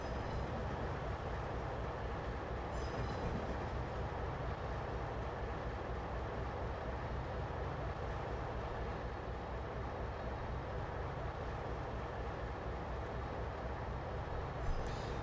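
A steady, continuous rumble of a British Midlands locomotive hauling coupled coaches in Trainz Simulator 2, running slowly and evenly throughout with a faint high whine on top and no break in the drone.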